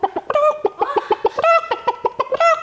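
A human voice imitates a chicken, clucking in quick rhythmic bursts with a few drawn-out squawks, loud and close.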